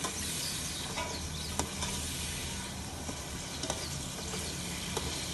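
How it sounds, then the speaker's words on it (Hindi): Yogurt sizzling and frying in hot ghee in a pan while being stirred, for a white chickpea biryani; steady continuous crackle with occasional small pops, no talking. "ये हमने पकाना है, 1-2 मिनट तक पकाएंगे ताकि ये दही जो है ना अच्छी तरह मिक्स हो जाए और घी छोड़ दे।"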